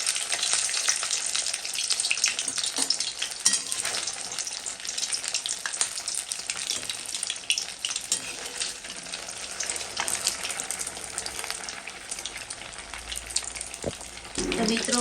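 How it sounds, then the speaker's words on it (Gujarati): Bread pakoras, or bread rolls, deep-frying in hot oil, giving a continuous crackling sizzle throughout with a few sharper pops and a brief clatter near the end. "તમે જોઈ શકો છો અવાજ ઉપરથી કે કેટલા ક્રિસ્પી સરસ મજાના બ્રેડ પકોડા તૈયાર થઈ રહ્યા છે"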